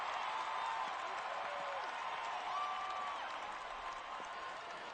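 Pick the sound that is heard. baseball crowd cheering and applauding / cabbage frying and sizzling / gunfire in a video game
baseball crowd cheering and applauding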